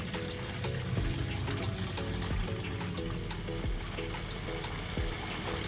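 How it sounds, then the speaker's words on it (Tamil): Basmati rice is washed in water for chicken mandhi biryani, giving a continuous, close swishing and sloshing wash of water that stays steady throughout. "இப்போ அரிசியை நல்லா கழுவிட்டு இதை ஊற வச்சிடலாம்."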